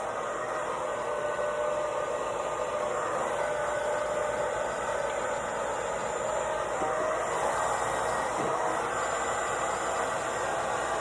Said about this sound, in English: I first just gently hold the diffuser on the hair to let the air flow through it.